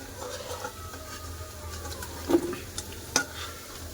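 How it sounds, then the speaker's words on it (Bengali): Potatoes fry in oil left over from frying fish, making a continuous moderate sizzle broken by a few sharp clicks and spatters. "তেলে আলু ভেজে নেবো"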